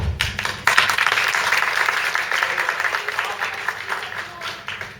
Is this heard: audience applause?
yes